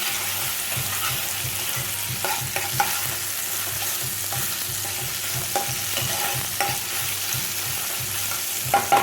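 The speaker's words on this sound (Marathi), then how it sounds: "आलं लसूणची पेस्ट अगदी थोडंसं परतून घेऊया आपण, त्याचा कच्चा वास जायला." Ginger garlic paste fries in hot oil in a pan for sukha chicken, giving a steady close sizzle broken by repeated scraping strokes of a spatula as it is stirred.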